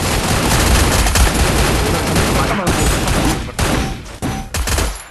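Rapid bursts of gunfire from a sniper shooting video game crackle loudly and almost continuously, with a few brief pauses between volleys near the end.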